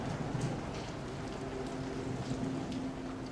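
Heavy rain falls during a storm as a dense, steady roar of downpour that holds constant throughout, with no voices.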